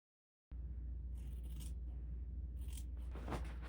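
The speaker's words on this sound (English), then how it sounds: "Now I'm going to lay those pieces out and cut the exact same ones on the denim fabric." Scissors cut through denim fabric in a quiet room, a few separate crunching snips with brief pauses between them and no voices.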